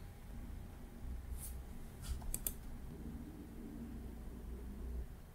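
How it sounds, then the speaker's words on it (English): Quiet keystrokes on a computer keyboard as a password is entered at a Kubuntu login screen, a short burst of clicks over faint background hiss. "And now we have to type our password and click on login."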